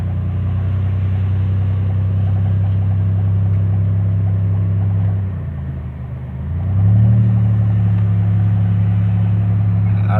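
A Pontiac Grand Am with a swapped 3800 supercharged engine idles with a steady low drone, dips briefly, then rises again to a slightly higher, rough hum, loud and close, with a possible engine or transmission fault.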